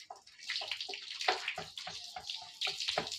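Water pours over a person bathing, a close, steady splashing stream that runs for a few seconds with small surges and breaks.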